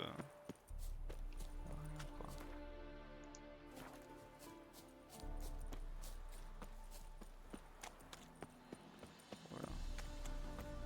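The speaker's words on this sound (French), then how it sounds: "C'est pour avoir le cheval qui court pas, qui peut pas speed de fou." A horse walking in The Witcher 3 video game: faint, regular clip-clop hoofbeats with game ambience, overlaid by someone talking quietly.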